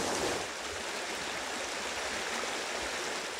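A small river flows in a steady, broadband rush of water, close and continuous without a break, with no voices over it.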